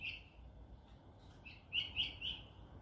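Small birds chirp in short, high bursts, a few quick calls clustering toward the end over a quiet background.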